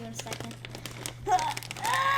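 Crinkly plastic packaging around a squishmallow toy rustles and crackles in close, irregular bursts while children talk over it, growing louder toward the end.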